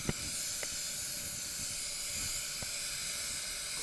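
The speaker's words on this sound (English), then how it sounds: "You could alternatively just use like the air gun, an air duster gun or an air blower." Steady, fairly loud hiss of compressed air from a blower gun passed over a Volvo S80 body panel before spray painting, continuous throughout with a few faint clicks and no speech.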